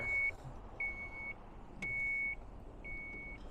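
Power liftgate on a 2014 Dodge Grand Caravan RT sounds warning beeps while operating: four sustained, evenly spaced electronic tones over a quiet background of low rumble, with no talking.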